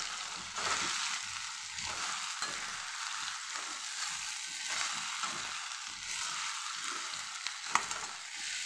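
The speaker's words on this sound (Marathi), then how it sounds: "टोमॅटो टाकल्यानंतर आपण यामध्ये टाकून घेऊ ही भेंडी. एवढं याला मी असं परतून घेते." Okra and tomato being stir-fried together in a pan in a village kitchen: a continuous close sizzle with a steady rhythm of soft thumps and scrapes as the vegetables are turned, and a sharper clack near the end.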